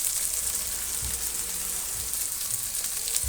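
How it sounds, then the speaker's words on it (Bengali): Spice paste for a meat curry sautés in a pan over a wood fire on a rainy day, a steady close sizzle with soft low stirring bumps and no talking. "মশলাটা ভালো করে কষিয়ে নেব"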